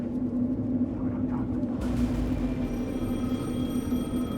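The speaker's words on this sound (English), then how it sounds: "Oh, the phone." In the video game Alan Wake 2, a telephone rings through a low, droning ambient rumble, its tone turning brighter and clearer partway through and holding to the end.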